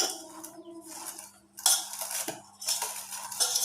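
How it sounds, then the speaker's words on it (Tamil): A spoon stirring a cabbage and vegetable mixture for dosa in a bowl: close, uneven scraping and clinking of utensil against the bowl in short bursts separated by quiet gaps. "இப்போ பாருங்கள் நம்ம காய் எல்லாமே நல்லா மிக்ஸ் பண்ணிட்டோம் நல்லா கலந்து வந்துடுச்சுங்க"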